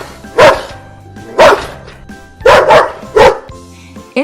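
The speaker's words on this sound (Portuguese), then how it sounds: "O Doberman é uma raça que surgiu na Alemanha em meados de 1890." A Doberman dog barks loudly and close up, giving four or five deep, evenly spaced barks with brief pauses between them and no other sound.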